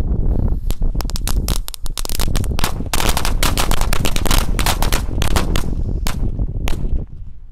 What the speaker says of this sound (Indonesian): ini ada mercon korek yang bledosnya 2 kali ya, satu pak sekaligus guys